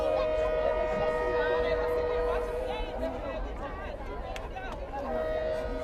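Near a varsity football field in Bloomington, a passing train sounds a sustained horn that wavers and fades slightly midway before swelling again, while a commentator talks over it.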